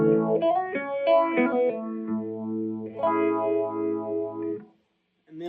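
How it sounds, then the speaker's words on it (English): Electric guitar through a Line 6 MM4 modulation pedal set to a Phase 90-style phaser, distorted chords and sustained notes with a sweeping swirl, close and loud before cutting off near the end. "this is a Line 6 MM4. Just super good catch-all modulation pedal. So I have it set up phase"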